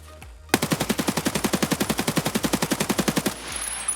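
Full-auto bursts from an AKS-74U compact assault rifle in the shooter game Escape From Tarkov: a loud, rapid string of about twenty-five evenly spaced shots lasting nearly three seconds, then abruptly stopping into faint background noise.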